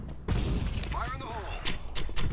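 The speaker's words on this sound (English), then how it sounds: "I just got hit by a nade and by a shotgun from the enemy." Grenade blast and shotgun fire in the game CS:GO, a burst of booming and thudding gunfire in rapid succession, loud and close over continuous game noise, with speech-like sound mixed in.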